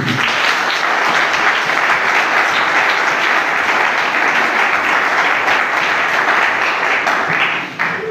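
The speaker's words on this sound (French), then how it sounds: "Est-ce qu'on va applaudir?" Sustained audience applause at a political talk in the Democratic Republic of Congo, loud and dense, a steady wash of many hands clapping for about eight seconds before tapering at the end.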